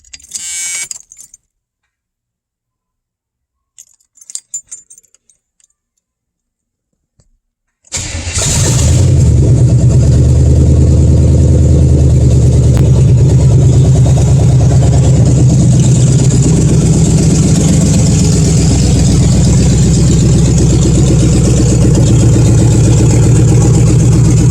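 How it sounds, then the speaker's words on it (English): A Chevy 350 V8 stored for 20 years is cranked and fires up after a few brief clicks and key jangles, catching with a loud roar and then settling into a steady, rough idle that runs on alone. "Now I'm gonna fire it up and let it warm up a little bit"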